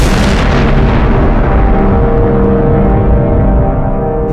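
A sustained, roaring explosion effect standing for the Big Bang, loud and dense, rumbling steadily for several seconds with no other sound.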